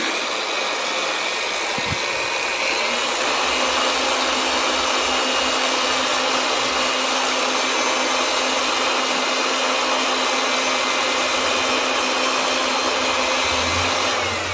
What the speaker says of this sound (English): You can use an air compressor if you have one.